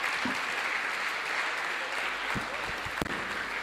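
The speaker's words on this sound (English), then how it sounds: "Another round of applause, please." A lecture audience at the Thabo Mbeki Africa Day Lecture in Tanzania gives a sustained round of applause, a dense even wash of many hands clapping in a large hall with a few louder nearby claps.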